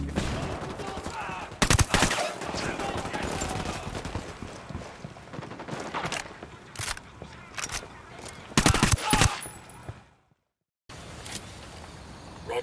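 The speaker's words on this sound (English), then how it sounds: "Hey, throwing a flashbang." Gunfire fills a firefight in the video game Ghost Recon Wildlands, with bursts and single shots cracking over a steady rumble, heavy volleys around the middle and near the end, then a brief total dropout before the shooting resumes.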